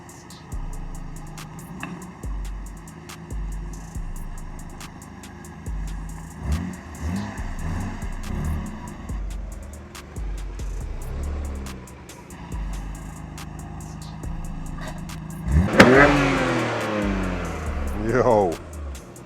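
A Nissan Skyline GTR R33 idles with a low rumble, then revs sharply near the end in two loud climbing bursts, while people talk over it.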